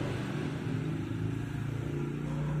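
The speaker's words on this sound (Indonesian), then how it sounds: "Ngarep sono cek sound motor loh" Motorcycle engine idling outdoors during a sound check, a low, steady rumble with a throbbing pulse that stays constant and somewhat distant throughout.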